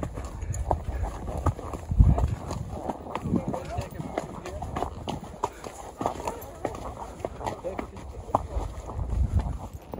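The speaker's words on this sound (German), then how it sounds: "aber diese Pferde sind echt geländegängig" Several horses descend steep, rough ground in Cappadocia, their hooves clip-clopping in an uneven, close rhythm while voices talk throughout.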